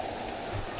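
Steady soft hiss of rain falling in a rural village deep in the Lao forest, a dense even wash of drops with a faint low rumble underneath.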